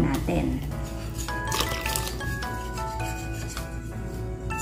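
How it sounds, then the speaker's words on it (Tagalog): Pancake batter mixed with water is stirred in a bowl for street-food pancakes, a soft wet rubbing and squishing heard close beneath a person talking throughout. "So, sasabayan na lamang po natin ito ng halo."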